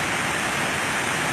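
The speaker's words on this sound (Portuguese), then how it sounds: "Cachoeira da Fumaça, em Alegre" Cachoeira da Fumaça, a waterfall in Alegre, Espírito Santo, Brazil, heard as a loud, continuous roar of falling water that holds steady and full with no pauses or voices.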